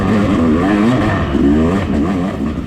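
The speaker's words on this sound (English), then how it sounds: "you can kind of see by how much the engine is making noise and bouncing around" Yamaha YZ250X two-stroke dirt bike engine labouring up a rough, rocky, silty hill climb during an off-road race lap, loud and close with a continuous wavering rev and clattering bounce, no talking.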